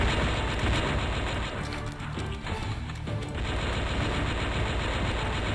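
Sustained rapid gunfire from Strike Force Heroes 2 rattles on as a whole magazine is emptied, a dense continuous burst of shots that stays loud from start to finish.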